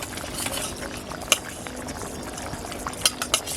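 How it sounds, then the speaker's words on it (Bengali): Fried American fish pieces go into a simmering yogurt and cauliflower gravy in a pan, with steady close bubbling and a few sharp utensil clinks against the pan. "ঝোলটা ফুটে গেছে আমি এখন ভাজা মাছগুলো দিয়ে দেবো"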